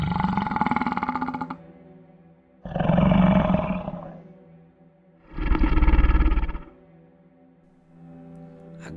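Three deep, drawn-out monstrous roars, each a few seconds long, separated by brief pauses, loud and close with a rumbling low growl.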